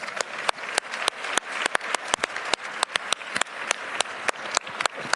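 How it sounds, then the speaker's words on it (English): Scattered, crisp hand claps ring out steadily at an award symposium held by the Memphis Grizzlies, sounding like a modest audience clapping at an irregular, lively pace without any voices. "They certainly deserve your support and a hearty round of applause."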